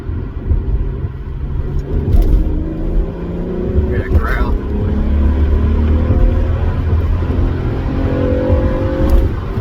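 Acura CL Type-S engine growling in third gear during a ride-along, a steady rising drone under road rumble, with people talking over it inside the car.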